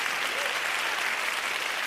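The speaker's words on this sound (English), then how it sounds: "please, with a massive round of applause, let's put our hands together for Desire Okparanozie" Loud, continuous applause from a large audience at an event honouring an athlete, a thick unbroken roar of clapping filling the whole moment.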